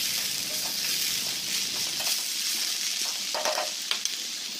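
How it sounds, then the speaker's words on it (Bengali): Vegetables stirred and fried in oil in a wok with cumin powder and turmeric, a steady bright sizzle with scraping stirs and a few light clinks, close and continuous. "এবার ভালো করে নাড়াচাড়া করে নিচ্ছি, যেন সবজিটা ভালোভাবে ভাজা হয়।"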